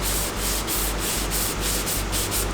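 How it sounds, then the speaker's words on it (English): Close, scratchy sandpaper rubbing over wood in steady back-and-forth strokes, with a brief pause between passes and no voices. "we're going to do a little bit of hand sanding"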